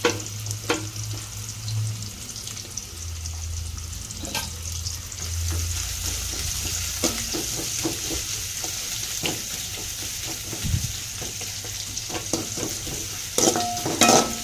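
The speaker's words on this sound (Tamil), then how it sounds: "இதெல்லாம் போட்டதுக்கப்புறம் வெங்காயம் போட்டு வதக்க வேண்டியதுதான்" Onions sauté in an oiled pan, giving a steady close sizzle broken by frequent spoon scrapes and taps as they are stirred, with a brief louder clatter near the end.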